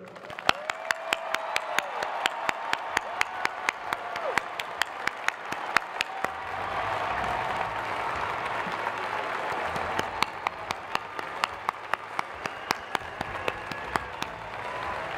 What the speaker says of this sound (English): Please give a round of applause to all of the judges